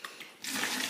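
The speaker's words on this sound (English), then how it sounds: "I'm gonna mix the Zap Heavy Duty Floor Stripper in some water" Water gushes from a tap into a container to mix Zap Heavy Duty Floor Stripper for hardwood floor refinishing, starting after a short pause as a steady, close hissing pour.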